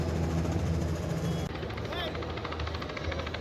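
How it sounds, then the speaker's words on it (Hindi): Helicopter flying low over the bathing ghats of Haridwar during the Kumbh royal bath, a steady rotor drone with a rhythmic pulsing that runs throughout, loud and continuous, with crowd noise and talk mixed underneath. "प्रशासन की तरफ से हेलीकॉप्टर से इन साधु संतों पर पुष्प वर्षा की गई।"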